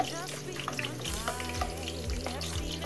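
Chopped onions sauté in a hot pan for a Filipino bamboo shoot and shrimp dish, giving a steady close sizzle and crackle with a few stirring clatters, and a voice speaks over it.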